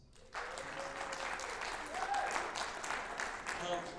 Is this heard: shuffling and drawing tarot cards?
no